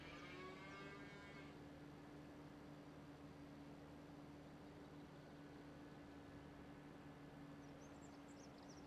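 A low moo from Highland cows in Farming Simulator 25 sits beneath a steady droning game ambience, with a short harmonic call at the start and faint bird chirps late on.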